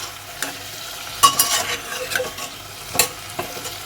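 Chicken stew with black pepper is stir-fried in a pan: a soft, steady sizzle broken by several sharp scraping strokes of a spatula, close and fairly quiet.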